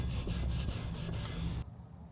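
A brush scrubs rust off cast iron in rapid, rhythmic rasping strokes close by, then stops abruptly, leaving faint background noise and no speech.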